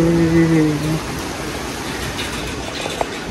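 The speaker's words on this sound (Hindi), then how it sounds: "बारिश।" Steady rain pours down in a broad, even wash that runs the whole way through, with a brief voice heard at the start.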